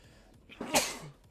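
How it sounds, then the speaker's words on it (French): A single quick sneeze, close and fairly soft, with a short breathy intake before the burst and near silence on either side. "j'ai eu un petit envie d'éternuer"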